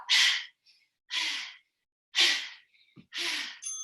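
Four forceful exhaled breaths in a steady rhythm, close and fairly loud, with short pauses between them, from someone working hard through a barre floor workout at a studio.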